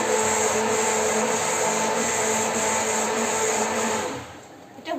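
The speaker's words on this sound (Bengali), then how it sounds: "এভাবে পুরোটা ব্লেন্ড করে নিতে হবে জুসারে" Electric juicer mixer whirring steadily as it blends a smoothie or milkshake for iftar, a loud continuous motor drone that winds down near the end, followed by a faint clatter.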